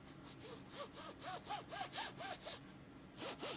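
A hand rubs back and forth across book covers in a steady rhythm of about a dozen close, soft scraping strokes, alone and quiet.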